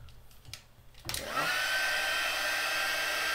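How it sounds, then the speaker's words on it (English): A heat embossing tool switches on about a second in and blows a steady, loud, high whirring hiss that melts embossing powder on a stenciled papercraft project, running alone to the end. "So now we're going to heat emboss this."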